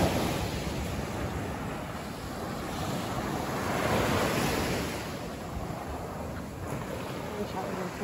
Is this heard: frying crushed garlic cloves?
no